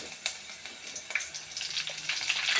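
Curry leaves frying in hot oil give a bright, crackling sizzle with irregular pops, close and fairly quiet, growing denser toward the end.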